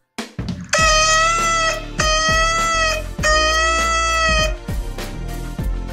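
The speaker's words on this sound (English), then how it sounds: "The second one is shevarin. It is a 3 1-seconds rising intonant." Three separate medium-length blasts from a shofar ram's horn form the shevarim call, each wavering horn note about a second long with short gaps between, over a soft low rhythmic pulse in the background.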